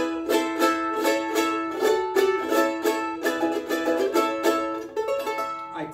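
Frank Rodriguez Villela VC3 charango, a lightly lacquered instrument, strummed and picked in quick bright rhythmic patterns, close and fairly loud with ringing metallic string overtones, no talking.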